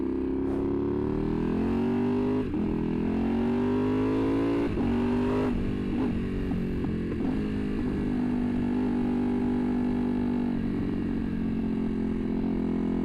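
A motorcycle with baffles in its exhaust revs with a high-pitched, steady drone, rising and falling through several throttle blips. It sounds fairly close and no voices are heard.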